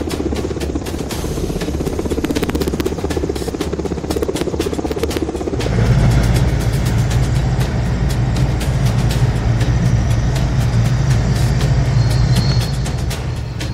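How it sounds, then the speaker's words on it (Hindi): MI-17 helicopter hovering over the Lucknow assembly building during a mock drill, a continuous rotor beat and engine roar that swells louder about halfway through and holds steady and strong. "लखनऊ विधानसभा की इमारत के ठीक ऊपर MI-17 हेलीकॉप्टर की गर्जना हुई"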